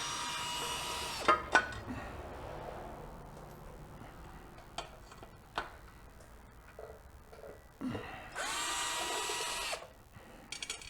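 Screws being removed from a Harley-Davidson primary cover with a power tool, heard as short whirring bursts of driver noise near the start and end, separated by quiet stretches with faint clicks and taps.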